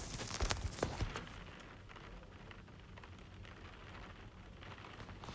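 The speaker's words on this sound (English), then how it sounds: "go closer to the window and then like hear the rain is so heavy" Heavy rain heard from indoors close to a window, a dense continuous wash of drops with a few sharper knocks early on, steady and moderately loud with no talk.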